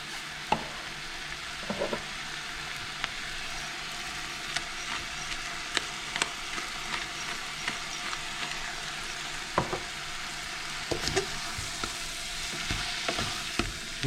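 Leeks sautéing in a pan, seasoned with salt and pepper for vichyssoise, give a steady soft sizzle broken by a few sharp clicks of stirring, with no talking.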